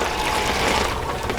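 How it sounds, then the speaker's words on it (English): A small 1:12 Feiyue FY12 Brave 4x4 amphibious RC truck churns through water, producing a continuous close splashing and gurgling wash with its motor whirring underneath. "And I'm driving in the water."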